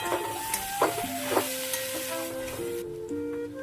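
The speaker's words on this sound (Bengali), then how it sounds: "বাঁধাকপি দিয়ে ভালো করে নেড়ে চেড়ে ভেজে নেবো" Shredded cabbage stir-fried in a pan, giving a steady sizzle broken by a few scraping stirs, with background music playing throughout.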